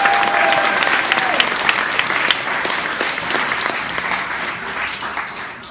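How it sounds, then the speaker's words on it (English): Audience applause fills the hall after the awards segment of a youth drum-line winter concert, dense and steady throughout with a few sharper claps standing out, fading slightly toward the end. "So yeah, you can clap about that."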